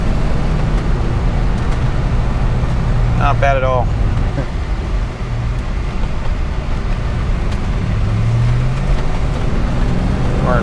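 A 1989 Ford Mustang Convertible drives through corners, its engine and road noise forming a loud, continuous rumble close by, with a brief spoken remark over it.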